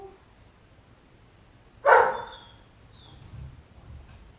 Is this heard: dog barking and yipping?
yes